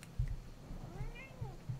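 A house cat meows softly indoors, a short drawn-out mew in the middle, with a few dull low thumps around it and faint background noise.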